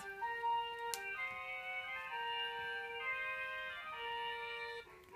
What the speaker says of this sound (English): when the flutes, clarinets, oboes play together, it sounds like this